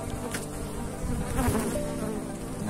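Bees buzzing steadily at a beehive, a dense, continuous hum of many insects close by, with no voices.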